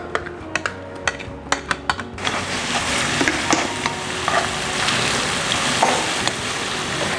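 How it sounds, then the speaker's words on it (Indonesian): Onions fry in oil over medium-low heat while an onion oil for halal tori paitan ramen is made. A few sharp utensil taps come first, then a steady, close sizzle fills the rest. "kita akan goreng bawang-bawangnya itu sampai dia sedikit menguning ya"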